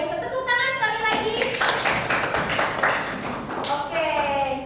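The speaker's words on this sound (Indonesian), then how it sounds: "Tepuk tangan sekali lagi." A class of students applauding during a micro-teaching catering lesson, a burst of close, sharp hand clapping that rises and then fades, with a voice talking before and after it.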